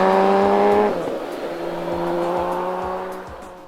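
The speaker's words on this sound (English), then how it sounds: "the sound that comes out of those 6-gun pipes is absolutely soul-stirring" A BMW K1600GT six-cylinder touring motorcycle running through its exhaust, a loud steady engine tone that drops as revs fall, then rises and settles again with harmonic pulses, heard close and without talk.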